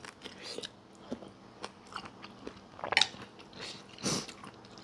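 Crispy fried pork eaten with a bowl of noodle soup, close-up bites and chewing with a few sharper crunches, quiet and irregular with no talking.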